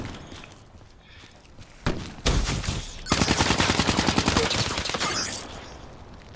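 Automatic gunfire in the video game Black Ops 3, a loud close burst followed by a longer rapid string of shots after a quieter opening.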